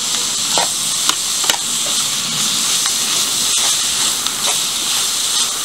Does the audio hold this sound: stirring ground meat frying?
yes